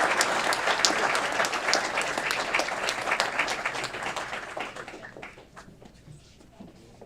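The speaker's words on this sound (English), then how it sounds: "Big round of applause for the Aurora Police Department." A council chamber audience applauding for a police department, dense clapping that holds strong for several seconds before thinning out and fading to near quiet.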